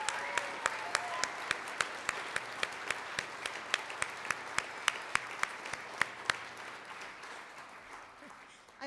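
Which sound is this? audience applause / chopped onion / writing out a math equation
audience applause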